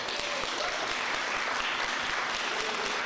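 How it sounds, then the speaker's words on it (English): Sustained, dense applause from a crowd responding to a speech on property tax assessments in Jackson County, steady and loud throughout with no pauses. "But it was his remarks on property tax assessments that got the most enthusiastic applause."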